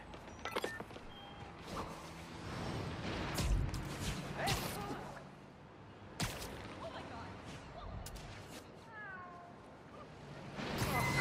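A cat meows in the Spider-Man Miles Morales video game, a few short cries heard amid game sound effects, thuds and background noise, with some speech nearby.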